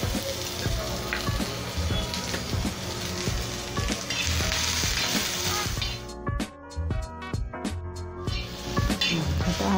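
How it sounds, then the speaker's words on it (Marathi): Masala and onion fry in a little oil on a tawa over a gas flame, giving a steady, fairly loud sizzle. Toward the end, sharp scraping or tapping strokes cut in during the dry chicken preparation. "इथे मी गॅसवर तवा ठेवलेला आहे, त्याच्यात हे आपण थोडंसं तेल टाकून चांगला गुलाबी रंगावरती भाजून घेऊया।"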